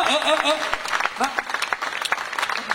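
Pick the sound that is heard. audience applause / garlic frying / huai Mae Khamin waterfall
audience applause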